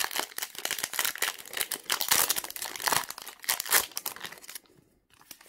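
A fat pack of Topps 2019 Series 1 baseball cards being torn open, with steady close crinkling and tearing of the foil wrapper for several seconds before it goes quiet.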